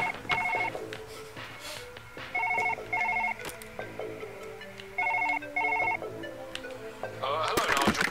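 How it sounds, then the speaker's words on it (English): A phone rings in the Surgeon Simulator game, repeated electronic trilling bursts in a regular pattern over background game music, ending with a brief clatter. "Your phone's ringing."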